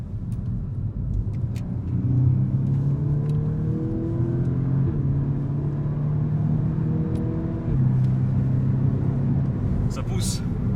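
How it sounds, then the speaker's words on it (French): An Audi S3 8V with 310 hp accelerates in sport mode, heard from the cabin as a steady engine drone that climbs and drops at each gear shift, with a person talking over it. "on entend bien les passages de rapport, c'est sympa"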